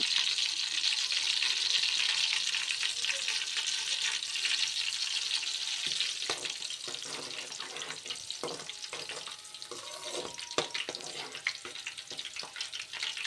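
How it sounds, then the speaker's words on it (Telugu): Chopped green chilli pieces frying in hot oil for egg fried rice, a loud, steady, hissing sizzle close by that later breaks into crackles and a few clanks of stirring, with no talking. "మనం కట్ చేసుకున్న పచ్చిమిర్చి ముక్కలు వేసి దోరగా ఫ్రై చేసుకోండి."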